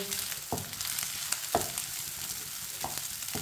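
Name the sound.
leftover rice with eggs cooking in a pan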